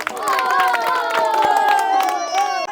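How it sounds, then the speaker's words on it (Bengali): Crowd at a village ladies' game day with cricket bats and football, breaking into loud cheering, shouting and clapping, a lively close burst with excited voices throughout. "একবার করতালি হয়ে যাক।"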